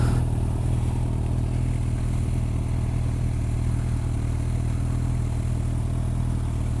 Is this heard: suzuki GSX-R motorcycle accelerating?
yes